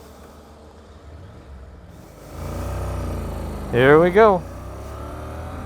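A Honda NC 750X motorcycle pulls away, its engine swelling from a low rumble into two short, loud revving bursts in quick succession, with a brief spoken phrase just before.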